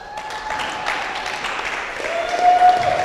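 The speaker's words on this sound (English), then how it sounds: "let's get a round of applause, please, for our men's doubles finals championships" An audience applauds the men's doubles finalists after a U.S. team qualifying final, with continuous, moderately loud clapping that swells near the end of the short burst.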